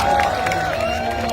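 An audience at a Bageshwar Dham dance event with Khesari Lal gives a brief burst of clapping and crowd noise, with soft cheering mixed in.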